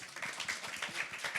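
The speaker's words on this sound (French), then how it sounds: "Les applaudissements, ça donne un petit peu de rythme comme ça." Applause from an audience at a talk on innovation and future workplace skills, a brisk clatter of many hands with some rhythmic clapping, moderately loud and continuous.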